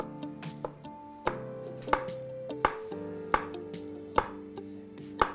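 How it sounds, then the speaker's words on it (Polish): Mushrooms being finely chopped by hand with a knife on a board for a vegan, gluten-free pizza: a steady series of about a dozen crisp, close knife strikes in a quiet kitchen, with no talk. "Pieczarki kroimy na takiej tarce typu rekinek albo normalnie ręcznie na drobno"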